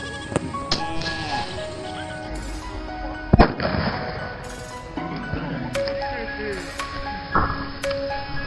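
Sodium metal thrown into a large pond bursts with one sharp, loud bang partway through, followed by lesser pops and splashes outdoors, while people talk throughout.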